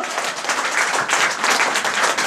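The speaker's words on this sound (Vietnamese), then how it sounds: "Chúng ta nên cho anh Nguyễn Thanh Tùng và anh Nguyễn Khánh Hưng một tràng vỗ tay thật là lớn" A big round of applause from the audience at a fundraising dinner in Odense, Denmark, dense and steady clapping that swells loudly and continues throughout without talk.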